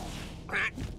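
A cartoon duck in a Justice League Action animated episode gives one short, nasal quack close up, over a steady background bed.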